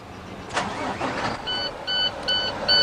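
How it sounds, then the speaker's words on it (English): A truck engine cranks and catches during an air-brake cab check, a burst of starter noise followed by a steady running drone with repeated high-pitched tonal beeps from the cab, all fairly close and without talk. "now we're going to start the engine all the way up"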